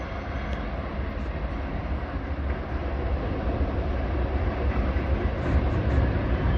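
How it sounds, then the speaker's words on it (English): A steady, broad rumble of a train rolling along the rail line in a scenic mountain setting, holding constant and swelling slightly as it draws nearer, with no voices. "There's the train."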